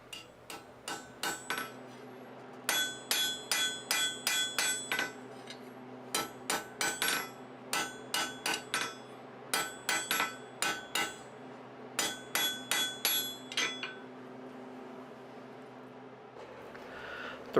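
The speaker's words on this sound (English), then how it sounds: "Hammering a chisel point, on the other hand, is really just a matter of putting a slope on two faces of the bar" A hammer forges a chisel point on a hot bar over an anvil, ringing in quick groups of sharp metallic strikes with brief pauses between sets, close and loud.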